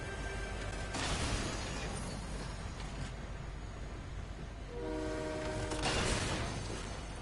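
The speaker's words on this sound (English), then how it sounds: "I did not think the train was gonna come by here." A train rumbling past in Fortnite, a steady broadband roar with two louder swells and a tonal horn blast near the end, close and continuous with no talk.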